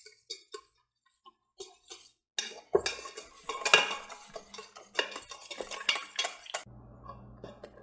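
Flour is stirred into milk bun dough in a bowl with a utensil, a busy run of scraping, clinking strokes, close and fairly loud, after a few sparse taps.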